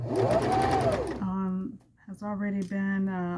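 A sewing machine stitches a hem on a McCall's 8166 flounce, a loud, steady mechanical whirring at first, then a brief pause before it resumes, with a person talking alongside.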